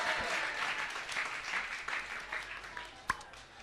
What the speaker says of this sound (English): A round of applause for Mayhem.